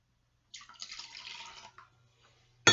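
Water poured from a tap into a measuring cup for cake batter runs as a brief, splashy stream for about a second, then stops, followed by a sharp close clatter.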